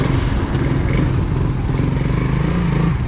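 A motorcycle engine revs and pulls away up close, a loud, throbbing, clattery putter that stays steady and close.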